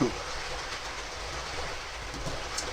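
Trains going around a track: a steady, moderately quiet rumble with faint rhythmic clatter, continuous throughout the short stretch.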